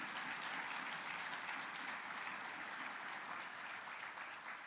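A large audience at a DNC winter meeting applauds steadily, a dense wash of clapping that holds throughout and eases slightly toward the end.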